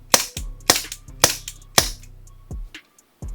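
Four sharp, close gas pistol shots from a Umarex VFC Walther PPK/S airsoft pistol fire in steady rhythm, then two weaker pops trail off as the gas runs low.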